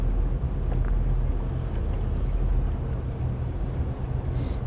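Twin-engine boat with Bravo III outdrives idling slowly on one engine while docking in the early morning, a steady low rumble running throughout with some wind noise and no talk.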